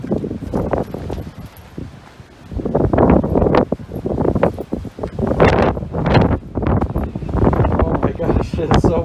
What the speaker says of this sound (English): It's a very windy day today.